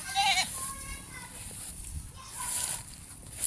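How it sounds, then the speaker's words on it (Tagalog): A goat bleats a few times, short wavering cries at moderate distance, with quiet background noise between calls. "aking kambing, nag-iisa na lang po ito."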